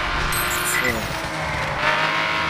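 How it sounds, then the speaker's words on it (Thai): Race cars roar through a race in the video game The Crew: steady engine drone with rising revs and a brief tire squeal, a voice talking over the driving. "ตอนนี้จะมาแข่ง รถกันนะครับ ก็แข่งรถเลยนะ"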